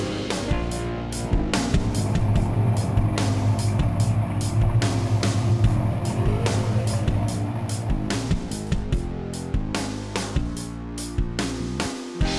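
A Suzuki 250 horsepower outboard engine drives a Suzuki SR-series boat at speed, giving a loud, sustained drone and steady hum under repeated sharp hull slaps and wind buffeting.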